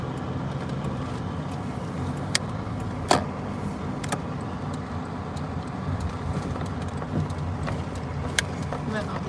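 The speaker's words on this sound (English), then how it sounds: "these cars go past." Cars passing on a snowy road, a steady moderate hiss of tires and engines with faint clicks and a few brief sharper knocks.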